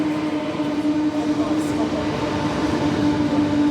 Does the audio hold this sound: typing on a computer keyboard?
no